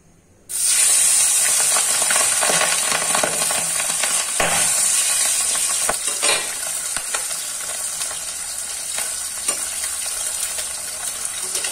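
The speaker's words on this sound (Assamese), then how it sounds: "মাছবোৰ খুব ফুটিছে তেলত দিয়াৰ লগে লগে বহুত ফুটিছে" Turmeric- and salt-coated fish spluttering in hot oil, a loud, steady sizzle that bursts in abruptly and keeps hissing and crackling with sharp pops throughout.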